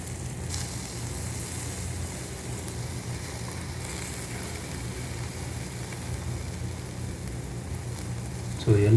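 Onion omelette frying in a pan of oil, giving a steady, close, even sizzle with fine crackle throughout and a brief louder bump at the very end.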